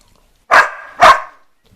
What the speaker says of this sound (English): You are one smart dog.